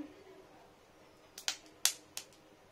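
Whole spices crackling and popping as they dry-roast in a pan, a few sharp separate pops spaced over a quiet background.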